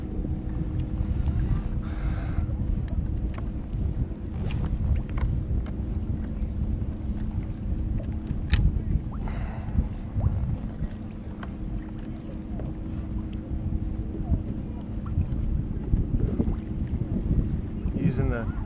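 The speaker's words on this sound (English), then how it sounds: "It's pretty choppy today, pretty windy." Steady wind buffets a small fishing boat on choppy water in an 8 to 10 mph northwest wind, a constant low rumble of gusts and slapping chop running loud and unbroken throughout.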